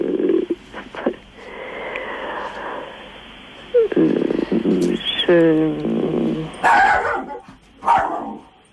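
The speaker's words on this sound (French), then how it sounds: "il y a le chien qui aboie" A dog barks several times over a telephone line, the barks close and loud, arriving in short bursts mixed with a person talking.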